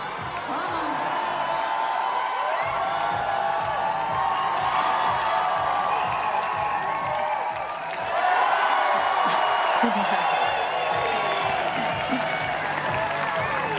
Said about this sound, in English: Crowd absolutely lit up.